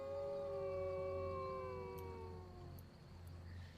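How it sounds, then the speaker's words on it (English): Dog howling in modded Skyrim with a wolf sounds mod, one long wavering howl that slides downward and fades, with faint clicks near the end; no talking. "The dogs go yike."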